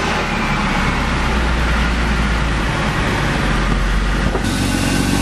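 A BMW E36 engine idling steadily after being started during a cooling system bleed, a loud, close, continuous rumble with no talk.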